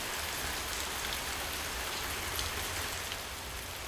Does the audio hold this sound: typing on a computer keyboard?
no